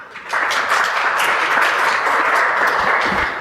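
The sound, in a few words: audience applause for a presenter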